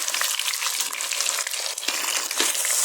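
Fresh and frozen vegetables frying in oil in a pan, added after the rice and chicken browned: a steady, close, dense sizzle and crackle with small spits and pops, no voices.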